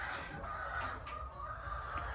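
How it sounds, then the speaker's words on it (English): Roosters on a small homestead farm in Ghana cluck steadily with a few brief crow-like calls, close by over a constant low hum of background noise, with no voices. "Roosters are doing really well. Look at them, guys."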